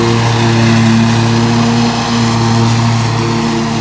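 A Toro stand-on lawn mower's engine runs at a steady idle with a strong low hum and tonal drone, loud and close, with only a slight dip partway through.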